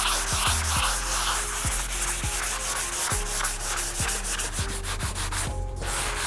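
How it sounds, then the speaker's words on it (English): Dry, rhythmic sanding strokes with a sanding pad rub back and forth against an old Nissan 240SX dashboard, close and steady, with a brief pause near the end. "we're literally just gonna do some light, dry sanding on this."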